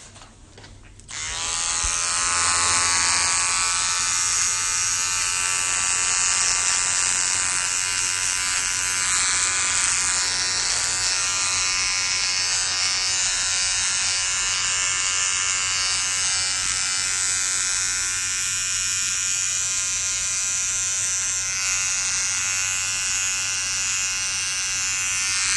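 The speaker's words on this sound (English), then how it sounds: "Oh yeah, I was gonna shave." An electric razor buzzes steadily and loudly throughout, a continuous close-up hum with rich overtones, switched on near the start and running alone without talk.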